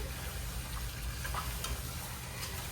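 Hassa curry sizzles steadily in a hot pan as it is stirred, a continuous close frying hiss with soft scraping and ticking touches throughout.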